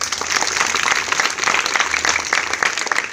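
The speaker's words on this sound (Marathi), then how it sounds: "एकदा सगळ्यांनी जोरदार टाळ्या वाजवूया" Sustained applause from a crowd of teachers, staff and students at a school birthday celebration, dense steady clapping throughout with a faint low hum beneath.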